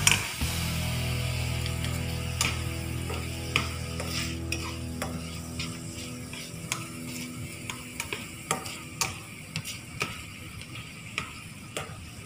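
A vegetable noodle mixture frying in a pan while being stirred: a constant low sizzle with repeated sharp scraping clacks of the utensil against the pan at an irregular pace, close up and with no voices.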